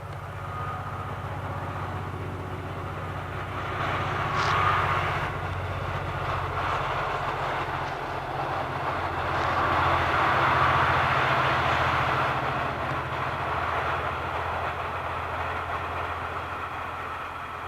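A train rumbles past steadily for a long stretch, a continuous loud mechanical roar with a brief higher squeal partway through and no talking.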